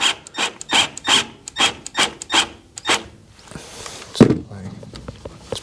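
A drill drives 40 mm screws into CLS timber inside a van during a tool box install, giving a run of rhythmic rasping, grinding bursts close up, then a short clatter with scattered handling noise.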